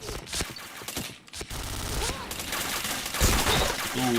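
Rapid bursts of gunfire in an online shooter game, repeated volleys and single shots close and loud, with a voice talking over the action.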